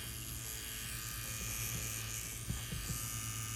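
A tattoo machine buzzes steadily and loudly up close while its needle tip applies light dotwork, with a few soft ticks as the needle goes in and out.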